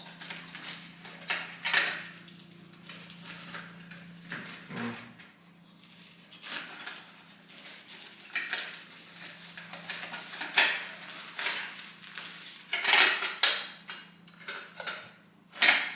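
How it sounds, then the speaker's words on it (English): Scattered metallic clinks, taps and rattles as a lightweight titanium camping pot and lid are handled with a gas cylinder inside, some knocks close and sharp, others softer. "My pot with the gas cylinder inside that screws onto that. A titanium lightweight pot"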